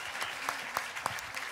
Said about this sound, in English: So that's something to give a round of applause for also.